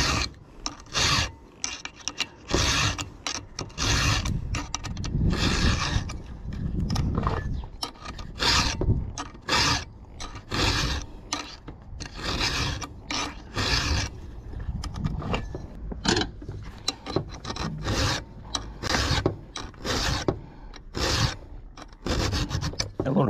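A hand file rasps across the teeth of a 404 chainsaw chain during sharpening, with rapid, repeated scraping strokes in a steady rhythm, close and fairly loud throughout.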